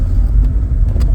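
A 1993 K-registered Vauxhall Cavalier with 144,000 miles idles nearby, a steady low engine rumble with a couple of faint ticks and no voices.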